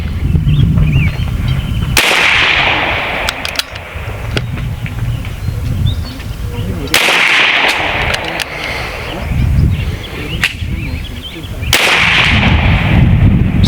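Three sharp shots from a 9mm pellet gun, an air gun with a trigger reset fault, fired several seconds apart, each a loud crack with a brief tail over steady background noise.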